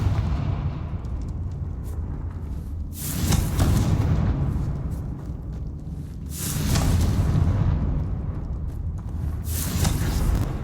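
A Confringo blasting spell goes off in Hogwarts Legacy. Three loud, booming explosions burst at intervals, each with a rushing, crackling tail, over a continuous low rumble, with no talking.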